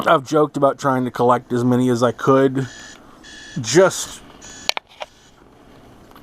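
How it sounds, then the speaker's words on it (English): A phone alarm gives a few short electronic beeps right after a man's speech, with sharp clicks and brief tones in an otherwise quiet room. "Sorry, that was my phone, my alarm."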